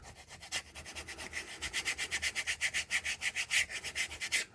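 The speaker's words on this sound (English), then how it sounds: "Just get my little squeegee, just an edge," A squeegee edge rubbed back and forth over vinyl to press it flat, a fast regular series of close, dry scraping strokes that speed up and grow louder as they go, with no voices.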